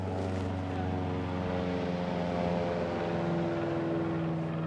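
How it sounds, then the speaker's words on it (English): Steady low hum of an airplane flying overhead, a continuous droning engine tone that holds evenly throughout, faint and distant in an outdoor setting. "the hum of a plane above"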